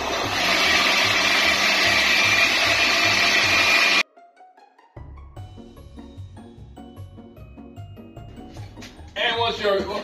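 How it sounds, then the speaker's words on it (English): Blender whirring loudly as it mixes a smoothie, a dense pulsing motor drone that cuts off abruptly, followed by quieter clinking and talk. "just throw on your blender"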